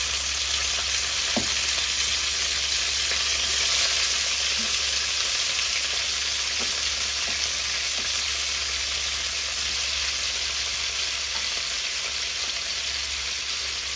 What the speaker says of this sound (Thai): ผัดเส้นอุด้ง